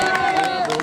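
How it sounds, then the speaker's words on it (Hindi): A crowd at an outdoor volleyball tournament claps and cheers in a brief busy burst, with voices mixed into the applause. "शाबाश लड्डू वास्ते तालियां भाई।"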